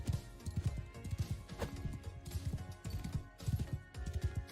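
Horse hooves clip-clop in a quick, steady galloping rhythm in the medieval combat game Mount & Blade II: Bannerlord, with a brief whinny mixed in, fairly faint and continuous without talk.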